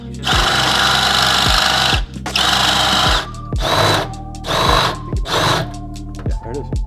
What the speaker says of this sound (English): So now we have to drill out this riv nut